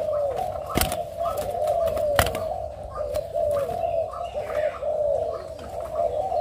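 Spotted doves at a bird farm give steady, repeated cooing calls that run throughout, with a few sharp clicks over a continuous rural background.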